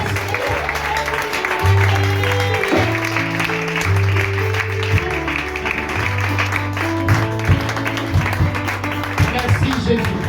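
A church congregation claps rhythmically in unison during a worship service, steady and fairly loud, with a preacher's voice and singing over the clapping.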